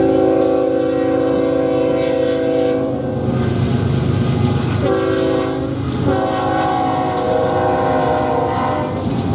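A BNSF freight locomotive rolls past at Barstow Yard on the Southern Transcon, a loud, steady rumble of wheels and engine throughout with a sustained multi-tone horn sounding in several long blasts over it.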